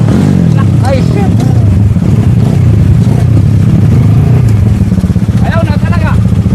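An enduro trail motorcycle engine revs and runs nearby on a trail ride, a rough mid-pitched drone that rises and falls beneath loud, continuous conversation.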